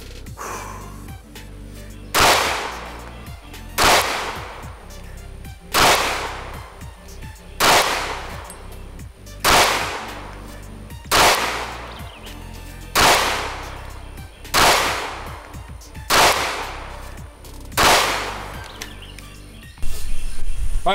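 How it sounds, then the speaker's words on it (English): A Springfield Hellcat RDP pistol fires ten sharp, loud shots at a range, spaced evenly at roughly two-second intervals, each crack ringing briefly with no talking between rounds. "I'm gonna shoot 10 rounds at 10 yards"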